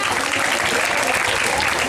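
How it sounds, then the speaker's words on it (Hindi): Loud audience applause during a Jain stage play, a thick continuous roar of clapping from a large crowd, steady and close throughout with faint murmuring mixed in. "तालियां जोरदार।"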